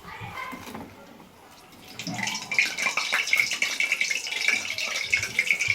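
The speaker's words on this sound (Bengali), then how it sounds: "একটা বাটির মধ্যে ঠান্ডা জল রেখে তার মধ্যে বড়াগুলি আমরা ছেড়ে দেব।" Fried mung dal vadas are dropped into a bowl of cold water, giving soft splashing and trickling water sounds that grow louder partway through and continue close by, with no talking.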